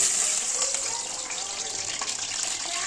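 Potato pieces for chicken keema fried in very hot oil in a wok, a loud, steady sizzle and hiss close up throughout, with a faint voice underneath.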